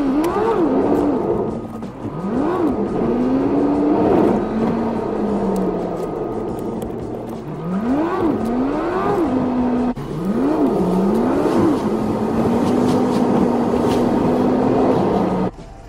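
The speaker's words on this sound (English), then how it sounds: "and then we'll go for a test drive." An Alfa Romeo Giulietta on a test drive after new rear brake discs were fitted: its engine rises and falls in pitch through repeated revs and gear changes, a steady close drone with no talking.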